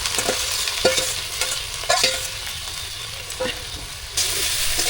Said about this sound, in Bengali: তো আমি এই ফুলগুলোকে গরম তেলের মধ্যে দিয়ে ভালোভাবে ঘামিয়ে নেব